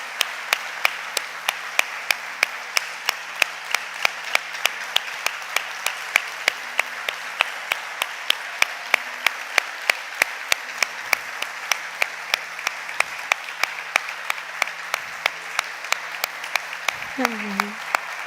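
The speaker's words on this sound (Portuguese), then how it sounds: "Queria dar uma salva de palmas a Jesus." A church congregation applauds at a Portuguese-language service, a steady patter of many hands clapping continuously at a moderate distance, with a brief voice near the end.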